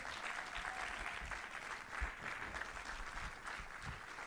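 A church congregation claps steadily for several seconds during a sermon, a fairly distant, even patter of applause with no talking over it.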